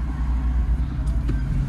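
A car engine hums steadily from inside the vehicle as it turns around and drives off on a city road, a continuous close low drone with faint road noise.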